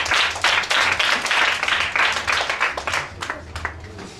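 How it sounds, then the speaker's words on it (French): An audience at a church gathering claps in a brief, loud round of applause that swells and then tapers off into scattered claps. "acclamez, c'est ça"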